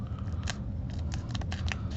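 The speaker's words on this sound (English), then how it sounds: "So I'm going to use my scissors again, because I'm terrified of like bending or breaking something" Scissors snip open a sumo trading card pack, a quick series of sharp, close cuts and crinkles over about two seconds with no talking.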